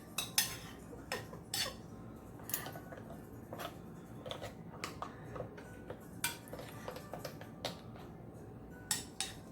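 Small metal-on-pan clinks and taps, soft and irregular, come from a spoon working tomato sauce over stuffed manicotti in a baking pan. The sounds are quiet and close, with brief spaced clatters and no talk.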